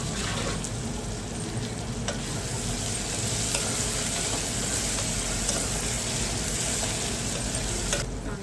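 Onion frying with salt in a pan for a hyacinth bean curry, a continuous close sizzle with occasional stirring clicks running the whole time without pause.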